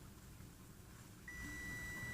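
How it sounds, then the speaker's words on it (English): A kitchen timer gives a single sustained electronic beep partway through, steady and clear over faint background noise from a skillet meal being cooked. "And there's the timer to tell me my chicken is done"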